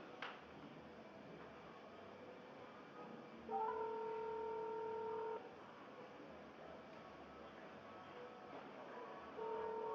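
Telephone being dialed, a short run of clear touch-tone beeps followed by another tone a few seconds later, over faint room hiss and no talk.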